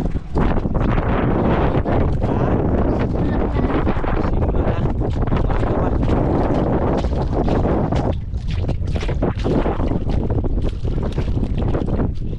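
Strong wind buffets the microphone at a seaside fishing spot, a loud, continuous roaring rush with gusty fluctuations, while a few brief words are spoken beneath it.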